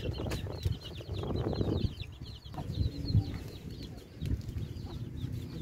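Chickens cluck and chatter at a nomadic camp, several birds producing repeated short clucks and squawks nearby, with light background movement and no speech.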